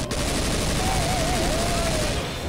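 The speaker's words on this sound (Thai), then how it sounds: "เฮ้ยยิงปืนใหม่เนี่ยโอเคกูถูกใจปืนนี้ว่ะ" A newly picked-up gun fires in Left 4 Dead 2, sounding as a continuous, loud burst of rapid gunfire that runs for over two seconds with no break.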